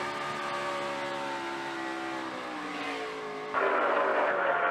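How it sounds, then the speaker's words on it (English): NASCAR Sprint Cup race car spinning out on track, heard from onboard: a sustained loud engine whine with shifting tone as the tires skid, then a sudden brighter roaring surge near the end. "We spun, guys."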